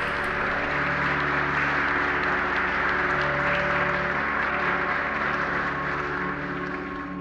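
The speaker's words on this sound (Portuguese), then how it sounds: "Um longo aplauso revela a emoção que domina todos os presentes." Long, sustained applause from a crowd gathered for the reopening of Saint Anthony of Padua's coffin and tomb, a dense steady wash of clapping running loud and unbroken for several seconds over a low hum, with no talking.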